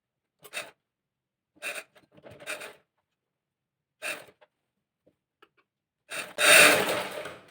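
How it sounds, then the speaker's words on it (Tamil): A sewing machine stitches a chudithar pant in short separate bursts with quiet gaps between them, ending in a longer, louder run of whirring stitches. "நீங்கள் கொஞ்சம் இங்கேருந்து ஸ்டார்ட் பண்ணிக்கிங்க தையலை"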